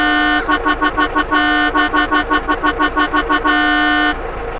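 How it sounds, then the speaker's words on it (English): An ambulance in GTA San Andreas sounds a plain car horn in place of its siren, a high-frame-rate glitch. Loud and close, it alternates long blasts with quick choppy bursts of honks over a steady engine rumble, then cuts off. "instead of a siren, there is a simple horn from cars"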